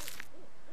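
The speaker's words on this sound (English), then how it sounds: "Oh, I can hear an owl in the background." An owl hoots several times in soft wavering calls from the dark forest of the Slender horror game, a steady ambient hiss behind it and a brief brighter noise at the very start.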